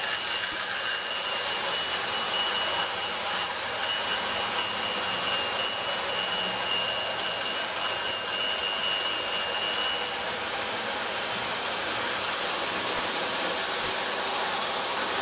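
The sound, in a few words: Marx 666 toy locomotive pulling 28 cars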